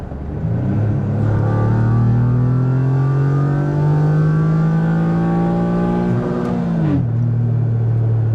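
An S52-swapped BMW E30 engine climbs steadily toward 7,000 rpm while driving, a loud, close, rising drone that dips sharply near the end, then settles back into a steady hum.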